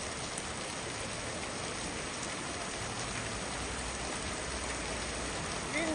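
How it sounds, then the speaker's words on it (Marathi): Heavy monsoon rain pours over the flooded Chandansar area of Virar, an even, unbroken hiss of falling water heard from a little distance, with no talk. "पुन्हा पावसाने धुवाधूर पडण्यास सुरुवात केल्यामुळे"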